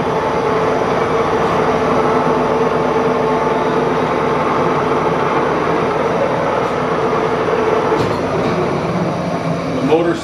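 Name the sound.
Monarch engine lathe motor running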